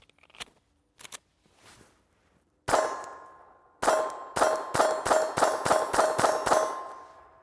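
A Glock 44 pistol fires CCI standard 40 grain subsonic rounds: a few faint metallic clicks, then nine loud, sharp reports in fairly quick succession, each with a brief ringing tail and no talking.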